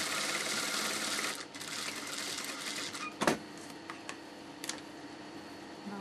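A home sewing machine stitching maxi dress fabric hums at a fast, steady whir for over a second, then stops, leaving a few faint clicks and taps of the machine close by.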